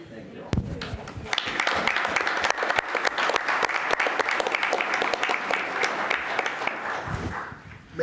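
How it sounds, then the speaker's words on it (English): Round of applause at a city commission meeting after a group photo, crowd clapping loudly and steadily for several seconds after a sharp start, with voices mixed in, before fading out. "And then we'll do a round of applause."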